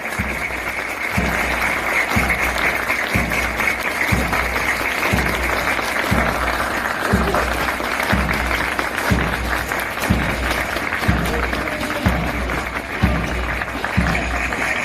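Steady, dense applause fills an outdoor Korean army training-center graduation ceremony, with a rhythmic low thumping beat repeating about once a second underneath the sustained clapping.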